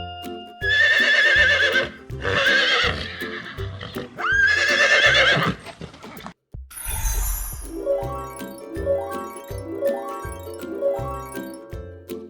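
A horse neighs in a quiz about animals, with several loud, drawn-out whinnies in separate bursts, followed by a brief pause and then a steady clip-clop rhythm of hooves under melodic background music.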